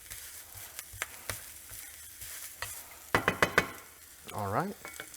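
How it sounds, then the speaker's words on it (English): Sausage browns in a hot pan in a café kitchen with a soft steady sizzle. A few sharp scrapes and taps of a utensil stir it, then a brief squeak near the end. "on our sausage, see how it's browning"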